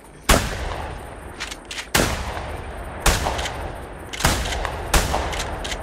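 Duck hunting in the video game The Hunter 2015, with five loud sharp shotgun blasts spaced about a second apart, each trailing off into echo, and no talking.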